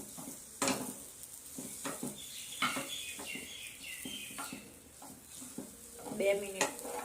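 Kansar mixture being stirred and roasted in a kadhai, a faint sizzle under repeated scraping and clinking of a spoon against the pan at an uneven rhythm, close and fairly quiet.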